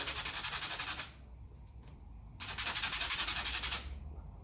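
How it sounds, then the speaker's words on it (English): Brass nuts and a small washer from the ignition coils of a 1957 Ferguson 35 TVO tractor are rubbed by hand, giving close, rapid scrubbing strokes in two bursts with a quieter pause between them. "I love these brass nuts, they're lovely. Polish them up. Same with the little washer."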